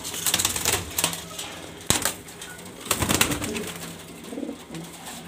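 Grizzle pigeons cooing in a loft, low repeated coos mixed with sharp clatters and rustling from the birds moving around nearby, with no talking.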